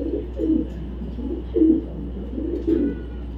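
Three distinct low coos from Afsan grizzle racer pigeons, 2023 club birds, come in an even rhythm about a second apart, close and clear over a quiet, steady hum.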